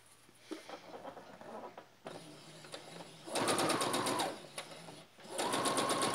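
A sewing machine stitches a backless frock in two loud, sustained whirring runs, separated by quieter pauses with a lighter mechanical rattle, up close.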